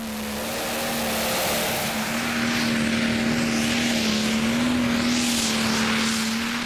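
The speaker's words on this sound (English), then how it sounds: "And Henrik Svenningsson pushing the throttle lever hard down." A pulling tractor at a Danish championship tractor pulling event roars at full throttle, a loud, sustained engine drone with a steady high pitch that wavers slightly as the pull goes on.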